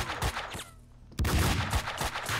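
Bursts of pistol fire from the shooter game Max Payne 2, dual weapons spraying rapid, loud shots in two volleys split by a brief lull, with no talk.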